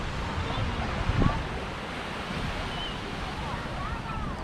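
Steady wash of surf on Waikiki beach mixed with wind rumbling on the microphone, a continuous broad roar with one brief thump, and faint voices in the background.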